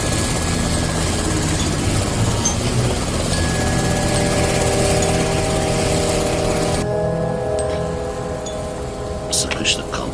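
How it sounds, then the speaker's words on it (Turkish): A civilian helicopter flies close by, its steady rotor and engine drone loud and continuous for most of the stretch before easing slightly toward the end; a faint tonal hum runs underneath. "Abi, helikopter yanımızda."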